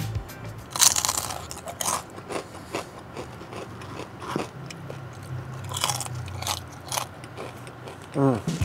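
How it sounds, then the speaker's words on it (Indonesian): Crispy fried chicken skin with serundeng is bitten and chewed close to the mic, giving repeated sharp crunches in an irregular rhythm, with quiet voices in between. "Kita tes kulit sama serundengnya."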